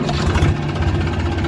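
Massey Ferguson 245 DI tractor diesel engine running at a steady idle just after starting, a continuous low chugging rumble close by, with no talk over it.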